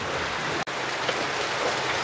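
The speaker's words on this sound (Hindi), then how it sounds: "बारिश बहुत ज़्यादा हो रही है" Heavy monsoon-style rain pouring down outdoors, a dense, continuous hiss of drops with no pauses, loud and close.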